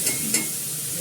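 Food frying in a pan before turmeric, salt and green chilli are added, with a steady soft sizzle and a couple of brief stirring scrapes near the start, no voices.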